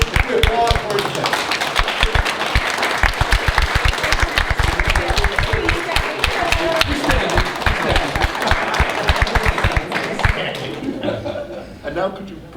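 An audience at a chess hall of fame opening applauds a young chess player, a dense, loud round of clapping that runs steadily for several seconds with some voices and chuckles mixed in before tapering off at the end.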